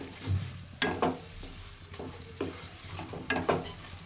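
Fried potatoes with a splash of water are stirred in a sizzling pan, a soft steady fry broken by several scraping stirs of a utensil against the pan.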